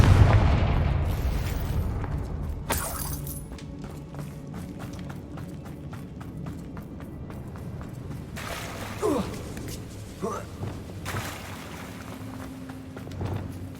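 A Confringo fire spell explodes in Hogwarts Legacy, a booming blast at the start that fades into a rumbling, crackling tail with scattered later pops and debris sounds, with no one speaking.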